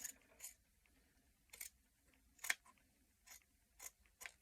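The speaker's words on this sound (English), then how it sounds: "we're going to cut that bit" Scissors snip through fabric being cut for bunting, about seven short crisp cuts spaced irregularly at close range, with quiet room tone between them and no talking.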